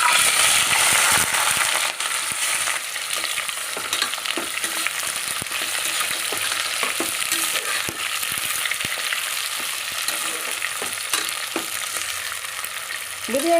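Onions fry in hot oil for chicken biryani, a loud continuous sizzle close by with scattered scraping clicks of stirring throughout, no voices.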